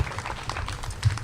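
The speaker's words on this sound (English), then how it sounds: "One more round of applause for the young people of Brownsville" Brief, soft round of clapping from an audience at a Brownsville neighborhood innovation lab event, scattered and distant for just over a second.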